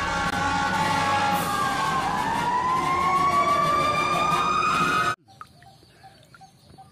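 A toy fire truck's siren wails loudly alone, its rising and falling electronic tone sweeping for about five seconds before cutting off abruptly.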